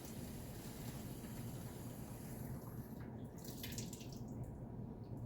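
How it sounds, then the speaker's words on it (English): Tap water runs steadily into a water bottle at a sink, a continuous broadband rush with splashing, alone and fairly faint throughout. "Fill the water bottle completely full."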